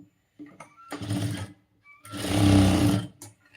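Two clear bursts of a sewing machine stitching piping joints on a blouse, the second longer and louder, running steadily up close with no speech over it.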